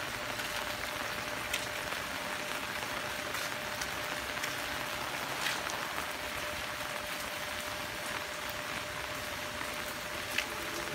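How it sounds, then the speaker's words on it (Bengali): Steady rain falls on a rural village lane in Dinajpur, lined with bamboo clumps, with water running over the path; a soft, even hiss with scattered drip ticks continues throughout at moderate distance. "এই বৃষ্টির মাঝে গলি পথ দিয়ে বাসায় যাচ্ছি।"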